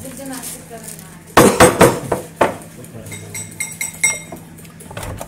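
Butter being mixed with powdered sugar in a bowl, heard as a quick series of close clinks and knocks of a utensil against the bowl, irregular and loud, with a voice talking over it.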